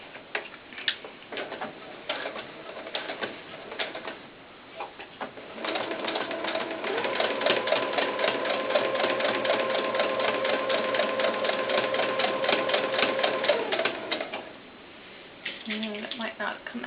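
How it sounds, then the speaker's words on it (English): A sewing machine runs in one steady burst of stitching around the brim of a red corduroy doll cap, a quiet even whirring hum with softer handling sounds before and after. "I'm going to sew all the way around the outside lip of this"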